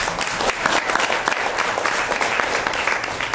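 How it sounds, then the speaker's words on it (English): Audience applause at a girls' sports year-end reception, steady group clapping fairly close and on its own for a few seconds. "So, Nicole, you want to raise your hand so you can get a hand clap?"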